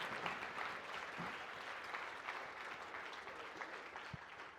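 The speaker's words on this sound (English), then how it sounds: "So let's clap it up for my brother." An audience keeps up steady applause for several seconds, a dense wash of clapping at an even level with no voices on top.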